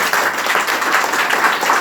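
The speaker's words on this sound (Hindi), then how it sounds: "इनके नाम पर एक जोरदार ताली लगाई" Loud, dense applause from a large audience at a DXN gathering, continuous clapping with no pauses, close and strong.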